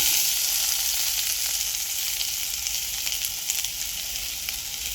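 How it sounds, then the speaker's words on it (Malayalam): Shallots fry in hot coconut oil in a pan, making a loud, steady, dense hiss and crackle throughout with no talking. "അപ്പോൾ നമ്മൾ ചട്ടി ചൂടായി അതിലേക്കുള്ള വെളിച്ചെണ്ണ ഒഴിച്ചു."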